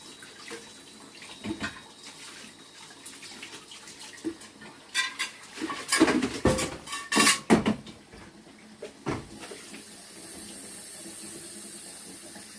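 Hot water runs from a tap in irregular splashing bursts, used to keep cake-decorating tools warm for smoothing ganache, with clinks and knocks from the sink area and a steadier flow near the end.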